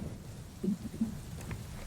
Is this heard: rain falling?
yes